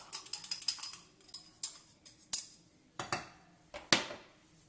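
Egg sauce with salt and pepper being mixed in a bowl, with a fast run of light utensil clinks that slows into separate louder taps and knocks.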